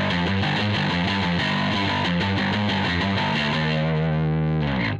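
A bass guitar through a second overdrive pedal growls with heavy, buzzy distortion as a riff of repeated low notes plays loud and close, with no talk, ending on a sustained note that slides away.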